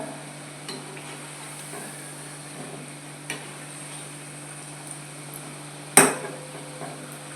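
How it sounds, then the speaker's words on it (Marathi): Crisp Maharashtrian vadya made from leftover chapati fry in a pan with a low, steady hiss. Faint scraping ticks run through it, and one sharp clack near the end marks a flip. "वड्या पलटी करून घ्यायच्या"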